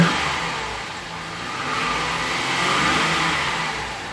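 A truck engine runs steadily up close, a loud continuous drone with slight swells in pitch as it idles and revs gently.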